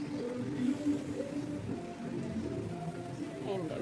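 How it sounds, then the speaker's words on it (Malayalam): Rain falls steadily, a soft continuous patter on surfaces at a moderate distance, with low murmuring voices underneath. "മഴ പെയ്തു ഗായ്സ്, മഴ."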